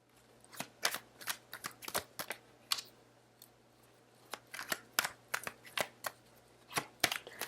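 Tarot cards shuffled and drawn during a reading: a quick, irregular run of crisp slaps and flicks, with bursts of close card handling separated by short pauses and no talking.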